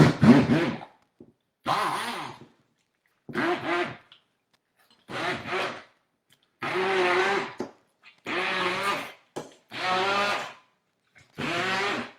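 Immersion blender pureeing butternut squash, running in about eight separate bursts of a second or so each with silent gaps between, close and fairly loud.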